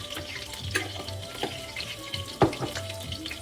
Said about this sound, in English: We're gonna cook a little bit garlic so it releases the aroma.